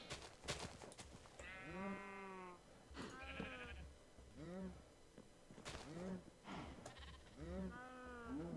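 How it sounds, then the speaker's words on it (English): Sheep in a Minecraft modpack game bleat several times in a row, each call a clear, wavering synthetic baa spaced a second or so apart, close and fairly loud against a quiet background. "Okay, so there's one sheep. There's two sheep."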